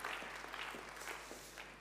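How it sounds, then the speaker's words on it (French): An audience applauds Manon at the SIG Energy Transition Trophies 2022 ceremony, a steady, moderately faint wash of clapping that continues throughout without any speech. "on peut applaudir Manon."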